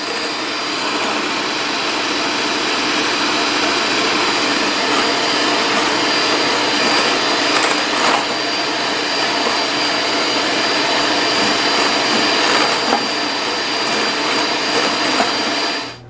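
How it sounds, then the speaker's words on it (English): Electric hand mixer beating egg whites with lemon juice toward stiff peaks for a Depression-era wind cake, running as a loud, steady whir close by for the whole stretch and stopping abruptly at the end. "I'm going to be adding lemon juice and continue beating until stiff peaks form"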